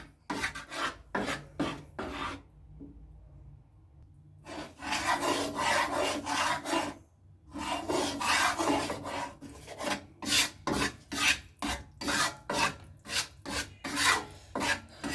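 Gram flour is roasted over low heat in a pan for besan barfi. A spatula scrapes and stirs in quiet, rhythmic rasping strokes, with a short still gap partway through.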